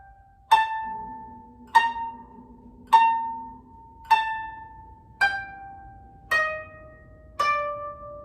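Seven evenly spaced plucked koto notes playing the beginner melody Usagi (Rabbit), each bright attack ringing out and decaying before the next, clear and close with no talking.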